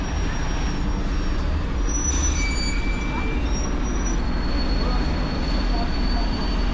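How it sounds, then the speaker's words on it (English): Trains at a busy train station in Yerevan, Armenia, producing a steady, continuous rumble with faint high-pitched squeals above it, with no clear pauses. "This is the train station"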